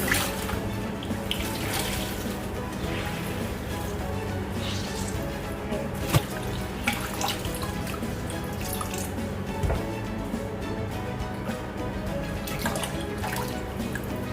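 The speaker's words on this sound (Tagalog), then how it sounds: "hugasan po muna natin guys" Taro leaves for Bicol-style laing are washed under a running kitchen tap, a steady hiss of water punctuated by soft drips and splashes and a couple of sharper knocks, with faint background voices.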